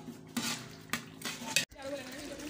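A spoon scrapes and knocks against a pot as ground cumin, garam masala, turmeric and salt are stirred into a mixture. The clanks and scrapes come in short bursts, close and moderately quiet.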